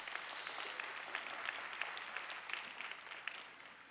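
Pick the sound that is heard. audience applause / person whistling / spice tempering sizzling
audience applause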